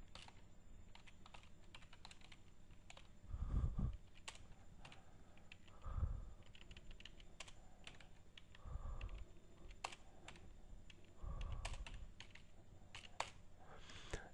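Steady clicking of keys on a computer keyboard as a name and address are typed in manually, a continuous run of quick taps with a few soft thuds, fairly close and without talk.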